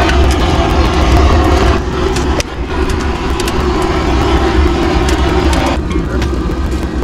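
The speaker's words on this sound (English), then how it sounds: "push this ignition air button and it starts the blower up" An outdoor wood boiler's ignition air blower running, a loud steady whooshing roar that holds without a break, close by and with no talk.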